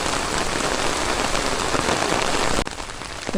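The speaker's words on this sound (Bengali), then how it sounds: "বৃষ্টি এখন কিছুটা কমছে, তার ভিতরে আমি হাঁটতেছি" Steady rain pours on open ground beside brick kilns, a char and a wetland during a heavy spring downpour, a dense continuous hiss that drops noticeably in intensity near the end as the shower eases.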